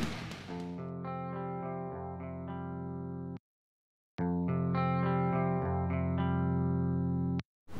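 Clean electric guitar played through the Ignite Amps Emissary tube amp plugin on its clean channel, sustained chords ringing out in two phrases with a brief silent gap between, no voice.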